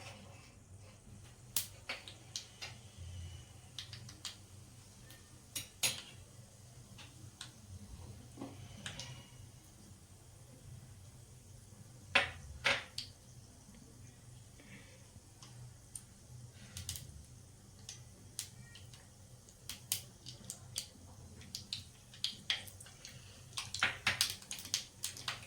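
Mustard seeds crackle in two tablespoons of hot oil on a gas stove for a Gujarati khandvi tempering: scattered sharp pops and ticks, sparse at first and denser toward the end, fairly faint over a low steady hum.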